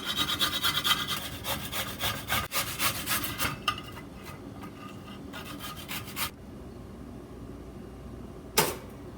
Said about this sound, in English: So now I'm just going to grate it.